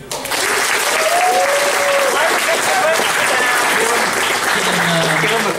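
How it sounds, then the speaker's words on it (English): A convention panel audience at Brony Fan Fair 2012 breaks into steady, loud applause and cheering that stays full for several seconds, with a few voices calling out over the clapping. "So yeah, give him more hand."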